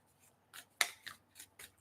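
A deck of tarot cards is shuffled in a few quick, soft riffling bursts, faint and close, spaced irregularly over a couple of seconds with no talking.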